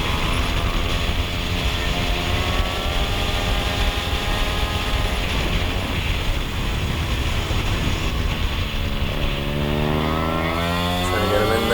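A small MiniGP racing motorcycle screams at high revs through a sprint race, a loud, continuous engine whine with pitch sweeps as it shifts and accelerates.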